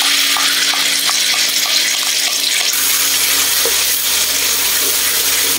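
Chili paste and chopped garlic frying in hot oil in a wok, a loud, steady sizzle with light stirring scrapes and clinks, no voices.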